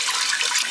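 Several cups of 5% white vinegar pour steadily into a pot in a short, loud, continuous splashing rush, with no talk.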